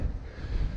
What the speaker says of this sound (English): So I hope you can hear me through the wind